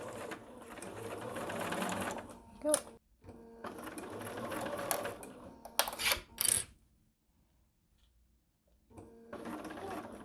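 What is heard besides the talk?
sewing machine stitching zipper on a wallet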